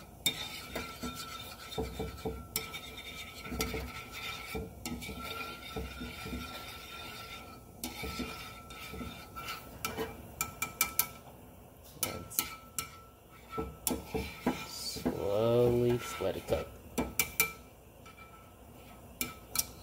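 Eggs and rice stirred in a pan with a utensil: repeated scraping and rasping strokes with metallic clinks, close and moderately quiet, in an irregular rhythm with brief pauses.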